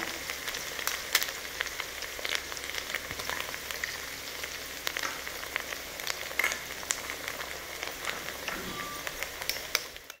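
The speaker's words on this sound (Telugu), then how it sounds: "ఇందులో మనం ఇప్పుడు ఎగ్ కొట్టి పోసుకున్నాము." Beaten egg poured into a hot pan for egg fried rice, giving a continuous crackling sizzle with scattered sharp pops and light stirring scrapes, steady and close, no voices.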